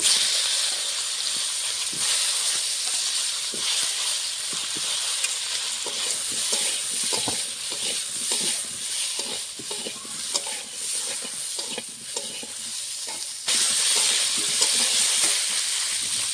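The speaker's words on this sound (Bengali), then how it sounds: "এই তেলে আমি এখন কপিটা ভেজে নেব" Cauliflower fries in oil left over from frying fish, making a continuous crackling sizzle and hiss with scraping stirs throughout and no voices.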